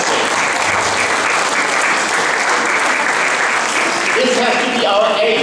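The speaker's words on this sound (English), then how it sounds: "I think they deserve a round of applause." Audience applause at a community event in the UK fills the room as a dense, loud, sustained wash of clapping, with a few faint voices rising near the end.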